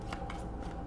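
A deck of tarot cards being shuffled: a brief, soft burst of riffling and flicking card sounds up close.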